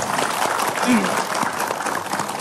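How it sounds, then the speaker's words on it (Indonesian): An audience at an Islamic cultural gathering claps steadily, a dense wash of hands with a voice briefly heard over it. "boleh kita berikan tepuk tangan lagi Bu"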